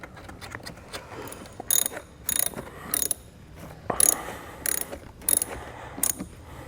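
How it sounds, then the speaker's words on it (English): Ratchet tightening a nut onto a ring terminal stud while installing a battery charge line kit on a 2019 Jeep Wrangler, with short bursts of close, crisp clicking separated by pauses. "And then we'll re-secure our nut."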